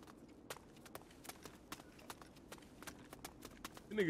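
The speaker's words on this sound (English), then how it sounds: "Listen to the footsteps." Footsteps in the 50 Cent: Blood on the Sand video game fall in a quick, steady rhythm of light, crisp taps. They are fairly faint and continue throughout, with a brief louder sound at the very end.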